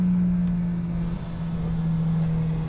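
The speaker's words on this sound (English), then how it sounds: "You can really hear the brake boost for sure" A tuned car engine with an IS38 turbo on a 93 tune holds a steady, loud drone while brake-boosting before a launch run, the low hum shifting slightly midway.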